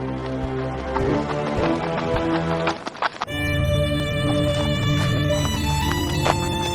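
Horse hooves clip-clop in a steady rhythm as a prince rides off on horseback, set in a Hindi fairy tale, with light music playing over the hoofbeats.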